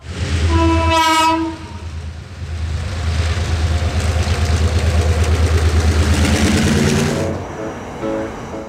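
A heritage steam train's whistle shrieks briefly near the start, then the locomotive rumbles and chugs steadily past, loud and close, fading slightly toward the end.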